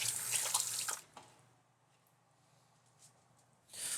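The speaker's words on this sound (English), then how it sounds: "Wash my hands." A running kitchen tap with hands being washed, a splashing rush of water for about a second, then quiet, then the flow picking up again at the end.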